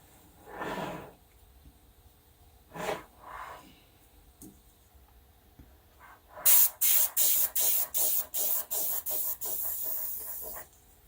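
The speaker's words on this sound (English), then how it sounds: "I think I'm going to need my airbrush." An airbrush spraying alcohol ink for soft flowers gives a run of short pulsed hisses, about nine bursts in a quick even rhythm, close and loud, after a few quieter breaths and rustles with no speech.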